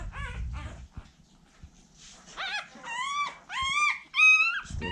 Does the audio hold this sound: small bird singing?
no